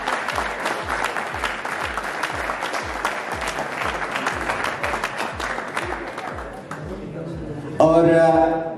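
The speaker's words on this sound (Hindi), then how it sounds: "सारे तालियां बजाएं अपनी टीम में।" Audience applause at a team shirt launching ceremony for a cricket super league, dense rhythmic clapping from a crowd that continues steadily, thins out near the end, then gives way to a brief loud burst of voices.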